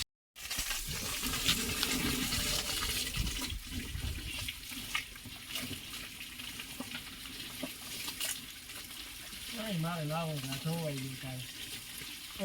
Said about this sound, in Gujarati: આ રીતના ગાડી ધોઈ દઈએ મામો